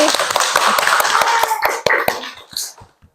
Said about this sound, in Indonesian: Tepuk tangan juga untuk Wandi.